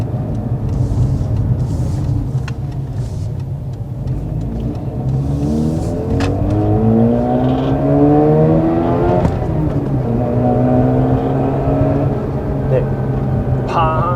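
A Mazda RX-8 Spirit R rotary engine drones and rises through the revs while driving, a smooth buzzing tone heard from inside the car, with occasional voices underneath.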